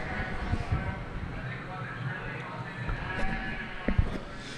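A natural colored Romney ewe lamb bleats faintly in a show ring at a youth sheep expo, a few soft calls sitting over low crowd murmur and hall noise.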